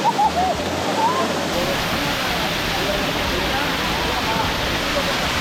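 Kumbakkarai waterfall in Theni roars as a loud, steady wash of falling water that fills the whole stretch without letup.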